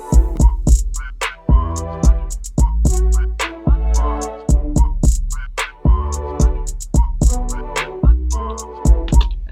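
The outro of a pop trap beat, with a busier 808 bass line under punchy drums and chopped melodic stabs, all playing in a steady loud groove with no talking.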